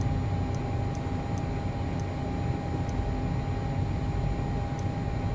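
Learjet 35A jet engines in a flight simulator hold a steady, loud broadband roar with a constant high whine, continuous and alone, with no voices over it.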